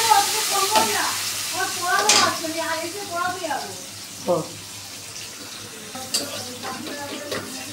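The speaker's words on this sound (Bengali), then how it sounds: "তেলটা খুব গরম ছিল তো পেঁয়াজটা ভাজা হয়ে গেছে" Sliced onions frying in very hot oil with spices give a soft, faint sizzle with occasional stirring clinks, mostly beneath a nearby voice talking.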